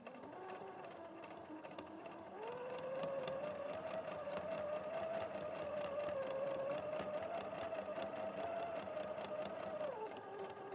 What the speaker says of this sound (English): I'm just going to edge stitch that.